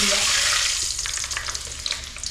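Fenugreek seeds hit hot oil and sizzle loudly at first, settling into a softer crackle with scattered pops as the frying continues, close up and without talk.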